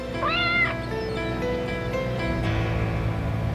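A cat meows loudly near the start with a rising and falling harmonic wail, then the sound settles into a steady background hum with lower murmuring tones.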